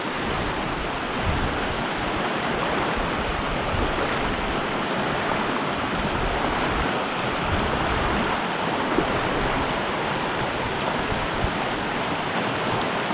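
Steady, close rush of creek water flowing and splashing over stones, a continuous broadband wash with no pauses, heard alone without talk during a fly-fishing outing.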